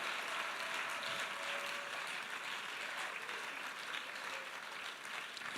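A church congregation gives loud, sustained applause during an Easter service, a dense, even wash of clapping that keeps going throughout.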